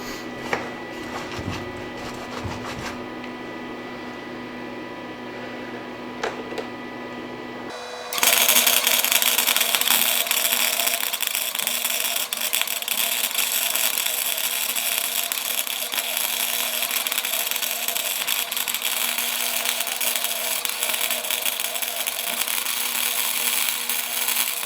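A small wire-feed welder at a homestead bursts into a loud, steady crackling hiss after several seconds of quiet hum, then keeps running unbroken to the end.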